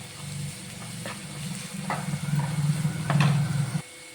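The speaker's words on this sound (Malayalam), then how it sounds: "ഇനി നമുക്കതിലേക്ക് ഒരു തണ്ട് കറിവേപ്പിലയും കൂടെ ചേർത്ത് കൊടുത്തിട്ട് നന്നായിട്ടൊന്ന് വഴറ്റിയെടുക്കണം" Onions sauté in a pan for soya masala curry, a steady close sizzle with light scraping stirs that grows slightly louder before stopping abruptly.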